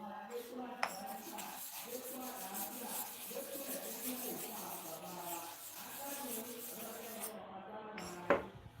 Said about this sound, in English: let's repeat the sharpening for the other side too